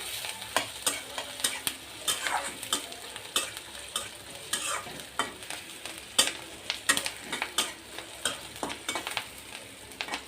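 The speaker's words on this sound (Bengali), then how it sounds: "কাঁচামরিচ পেঁয়াজটা আমি একটু হালকা নেড়ে চেড়ে ভেজে নিব" Green chilli and onion frying in a pan with a steady sizzle, stirred in repeated scraping strokes throughout, close and fairly loud with no talk.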